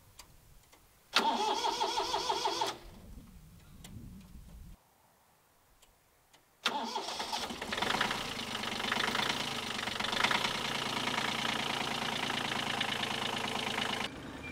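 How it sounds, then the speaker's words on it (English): A little old tractor fitted with a backhoe, its engine cranking over and catching, then running loud and steady with a rough, knocking clatter after a short pause. "A little old tractor with a back hoe."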